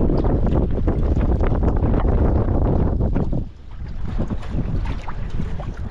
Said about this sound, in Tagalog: Grabe ang hangin na.